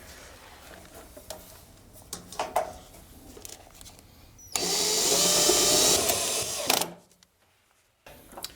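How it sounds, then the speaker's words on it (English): A power drill drives screws into a dumbwaiter guide-rail bracket. Quiet handling knocks lead into a single loud, close whirring burst of about two seconds, which then cuts off to near silence. "I'm going to shoot some screws down here to hold it in place"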